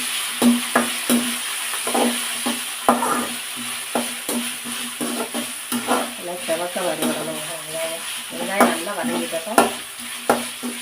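Onions sautéing in a pan for Chettinad-style mutton blood fry, a steady sizzle broken by repeated stirring scrapes and clacks of a spoon against the pan, close and moderately loud, with no talking.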